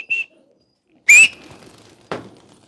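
Pigeons call in three short, separate bursts, close and fairly loud, with quiet gaps between each sound.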